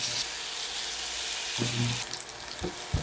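Lotus root slices fry in olive oil in a pan, a steady close sizzle with a brief louder crackle and a few soft scrapes near the end.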